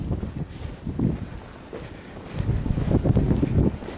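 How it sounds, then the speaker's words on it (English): Strong gusts during a Boston blizzard buffet the microphone in uneven bursts, roaring louder toward the end, with no voices. "The wind's kicking up."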